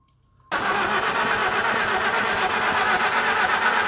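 An old International tractor engine cranks and catches abruptly after a short silence, then settles into a loud, steady rumbling idle close by.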